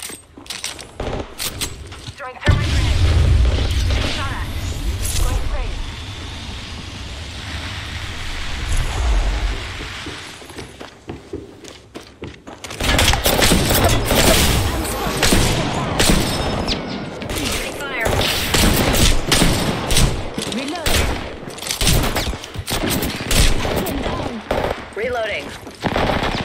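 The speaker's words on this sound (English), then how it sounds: "Throwing thermite grenade. Shot at." Heavy, continuous gunfire and the burst of a thermite grenade in the battle royale Apex Legends, loud dense volleys filling most of the stretch with a short lull in the middle.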